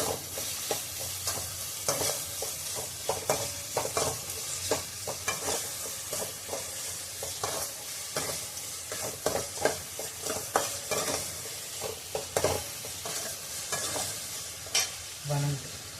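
Tomatoes cooked with salt sauté in a pan in a home kitchen, a constant sizzle layered with frequent scraping and clinking from a spoon stirring throughout, with no talk.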